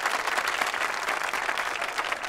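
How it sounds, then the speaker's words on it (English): An audience claps for performers at a family dance show, giving a continuous, close round of applause of even loudness with a faint murmur of the crowd beneath. "Let's give all of our performers another round of applause."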